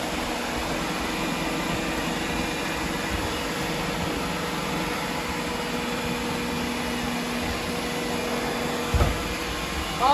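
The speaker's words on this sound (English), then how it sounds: "That's our five below vacuum." A cheap handheld vacuum cleaner picking up confetti drones steadily and loudly throughout with a constant whirring hum, ending with a brief clunk.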